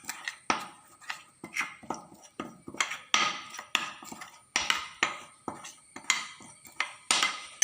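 A spoon scraping and clinking steadily against a bowl while pizza ingredients are mixed with a little oil, giving repeated close, sharp knocks in a quick uneven rhythm with no talking.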